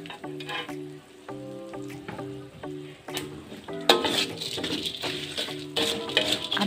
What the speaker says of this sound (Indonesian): Langsung saja kita masukkan teri yang sudah kita goreng.